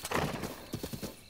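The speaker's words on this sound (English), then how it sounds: "they hit my horse" A horse in Zelda: Breath of the Wild gives a short whinny followed by a quick run of hoofbeats, all clipped and fairly faint within a brief burst of game sound.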